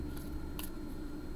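Oracle cards from a writer's oracle deck being shuffled overhand, heard as a close, steady papery riffle with a brief sharper flick of card edges partway through.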